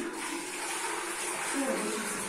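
A toilet in a children's nursery group room flushing, a continuous rushing hiss of water that stays steady and close for the whole stretch, with no talking.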